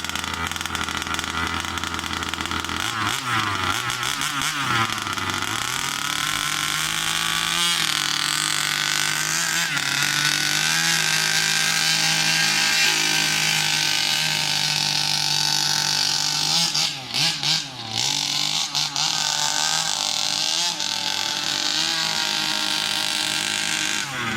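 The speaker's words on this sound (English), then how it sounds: "I'm just going to go for one more slow drive to just make sure the engine is nice and warm before I give it stick." A Rovan Baja RC car with a new 36cc double-ring two-stroke engine drives slowly while warming up, its high, buzzy engine note rising and falling with throttle over about 24 seconds, close and loud, with brief dips around mid-clip.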